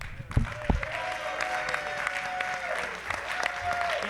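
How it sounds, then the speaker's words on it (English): Audience applause and cheering fill a ceremony hall at a pinball expo trading card event, steady clapping throughout with a few louder bursts and whistles near the start, plus faint background voices. "let's give them a cheer here"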